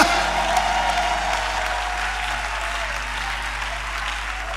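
A church leaders' conference audience gives dense, sustained applause, loud and even throughout with no break.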